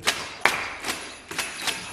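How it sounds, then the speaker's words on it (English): Finger snaps tapping out the five-beat Bo Diddley rhythm, sharp bright clicks in an uneven pattern, two close together and then three more spaced out, close and clear without talk. "Try that rhythm with a snap of the finger."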